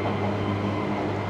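A Mexico City metro subway train rumbles steadily throughout, a loud, continuous low drone with broadband rolling noise and no voices.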